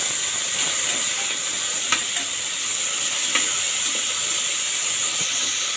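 Onion and tomato sauté in a pan with a little salt for a gravy, a loud, continuous close-up sizzle with occasional scraping stirs and no talking.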